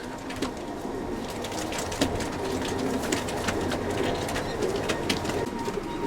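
Racing pigeons at a breeding loft coo softly and repeatedly, several birds overlapping at moderate distance, with faint rustling and occasional wing or perch sounds, and no talking.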